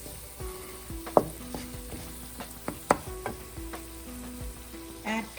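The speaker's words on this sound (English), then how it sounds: "Saute the spices with the salt for 30 seconds." Spices and salt sauté in a pan over a low to medium flame for chicken tikka masala, giving a soft sizzle with a few sharp clicks of stirring and faint music underneath.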